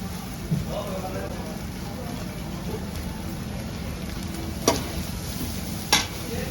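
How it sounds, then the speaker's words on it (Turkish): Food sizzles steadily in a pan with a low, even hiss, punctuated by a few brief clicks and clatters. "şu cuzur cuzur olan ses bile iştah açıyor bence"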